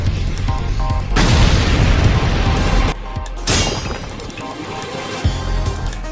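Anime combat blast from Gojo's Reversed Cursed Technique Red in the Jujutsu Kaisen fight against Toji: a loud, broadband booming explosion that swells and holds for several seconds, then gives way to a second heavy crash and lingering rumble.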